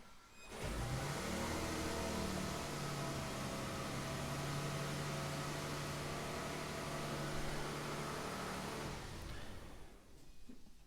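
A Toyota Tundra's engine cranks and catches, then settles into a steady idle hum for several seconds before cutting off, close and fairly loud with no talking.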